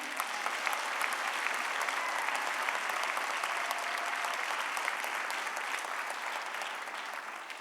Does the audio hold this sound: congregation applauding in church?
yes